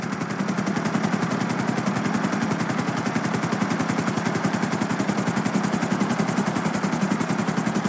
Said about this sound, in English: I'm bringing the chopper back around.